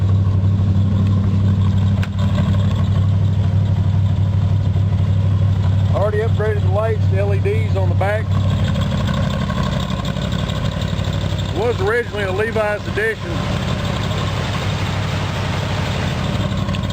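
A 1978 Jeep CJ7, once a Levi's edition, idles warm with a steady low rumble throughout, while someone talks over it in two bursts.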